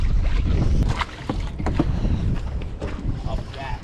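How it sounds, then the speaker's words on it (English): Man rowing a small dinghy from an anchored sailboat in La Paz against wind and current, with splashing oar strokes and heavy wind buffeting the microphone, while people talk nearby. "he's going to row like a crazy man, even though there's all this wind and current"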